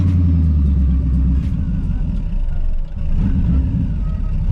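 An LS twin turbo Mustang engine rumbles loud and close at idle, its deep drone briefly dipping before steadily running again, with no talking.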